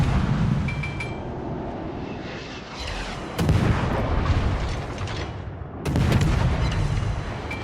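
Destroyer naval guns boom in a video game battle, with a couple of loud, heavy blasts rising out of a constant rumbling engine and sea bed, and no one speaking over them.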